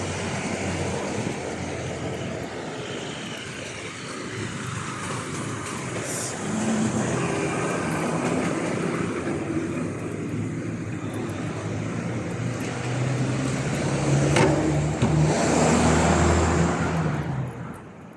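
A small Hong Kong minibus moves through busy street traffic, giving a continuous, moderately loud engine rumble and road hiss that swells as vehicles pass close by.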